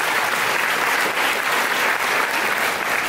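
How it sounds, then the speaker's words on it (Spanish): A crowd at a motivational sales training event applauds loudly, producing a thick, continuous roar of many hands clapping at once with no talk over it. "me gustaría que sean un fuerte aplauso"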